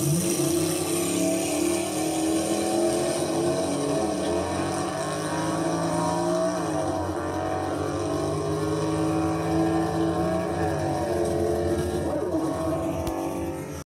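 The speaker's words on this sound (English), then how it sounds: "he's driving me around in this old Nissan" An old Nissan car driving along at steady speed, its engine a continuous close drone throughout without clear speech.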